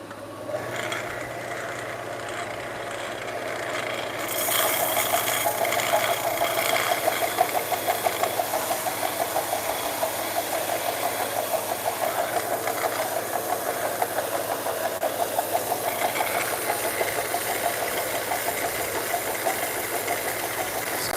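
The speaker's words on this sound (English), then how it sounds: "I'm going to run this belt sander for a minute." A belt sander runs on a piece of wood in a workshop, starting after a few quiet seconds and then grinding steadily with a rough, rattling whir that continues for the rest of the clip.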